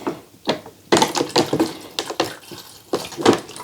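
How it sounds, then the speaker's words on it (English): Water is poured into an indoor hydroponic herb garden in uneven splashing bursts with short gaps, close by and fairly loud, with no speech. "we have to add 4 liters, which is just over a gallon of water"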